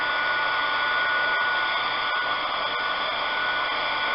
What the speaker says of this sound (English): So I am going to continue to dry with my heat gun and move everything around